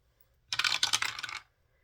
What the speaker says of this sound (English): we're going to roll an 8-sided dice